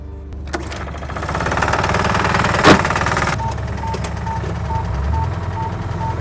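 A GPS line marking paint machine runs with a steady mid-pitched engine drone, close and fairly loud, with a brief clatter partway through and a faint repeating electronic beep in the background.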